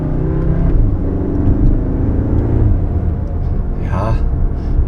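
A Cupra Formentor 310 PS SUV engine revs and drops in pitch through several manual paddle-shift gear changes, loud and close, with a brief crackle near the end.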